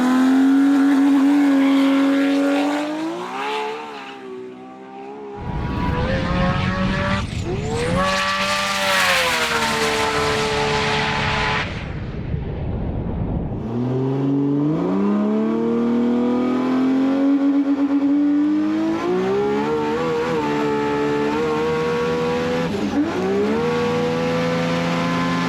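2000-horsepower Nissan GT-R race cars accelerate hard down a runway, loud rising engine howls climbing through gears, with a burst of broadband roar and rushing noise midway before revving resumes and climbs again.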